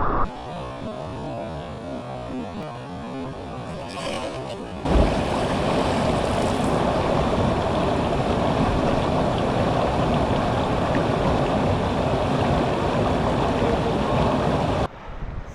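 Cold mountain creek water flowing into a deep pool on an off-track alpine route, a steady close rushing wash that surges louder after a brief pause and continues alone.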